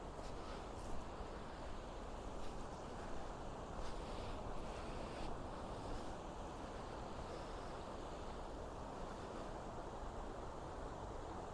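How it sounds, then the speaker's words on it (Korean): Water flowing in Cheonggyecheon, a stream in central Seoul, at dawn: a steady, broad rush with no pauses, mixed with some wind, alone without voices. "물소리만 들어도 이렇게 기분이 좋아집니다"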